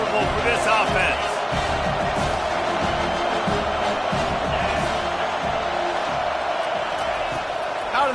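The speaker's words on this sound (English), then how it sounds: "This crowd trying to make life miserable for this offense." Stadium crowd roar from a college football video game, Texas Tech against USC, a dense constant wash of cheering and noise throughout, loud and steady with brief bumps, with a commentator's voice over it.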